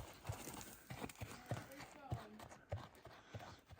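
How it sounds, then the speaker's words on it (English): A pack horse without handlers walks down a mountain trail near Cottonwood Pass, its hooves clopping in a steady, even rhythm close by, with a faint voice murmuring underneath. "to see a pack horse coming down the trail without any pack handlers with them"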